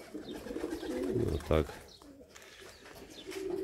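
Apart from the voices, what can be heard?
pigeons cooing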